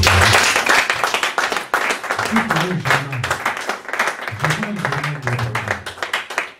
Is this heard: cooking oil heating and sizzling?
no